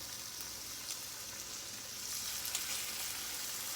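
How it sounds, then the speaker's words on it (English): Chicken tenders sizzle in a hot frying pan, a steady close hiss of frying oil with faint crackles and no talking. "There's the sizzle, so I know my pan's hot enough."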